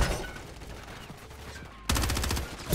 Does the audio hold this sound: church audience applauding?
no